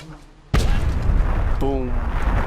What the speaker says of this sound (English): you can watch their explosions up close